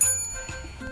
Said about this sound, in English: you'll hear a bell which sounds like this